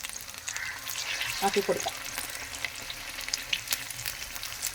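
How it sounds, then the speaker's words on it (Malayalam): Egg bajji frying in hot oil, a steady soft sizzle with a few brief bubbling pops partway through, faint and close, under someone speaking. "എണ്ണയിലേക്ക് നമുക്ക് മുട്ട ഇട്ട് കൊടുക്കാം"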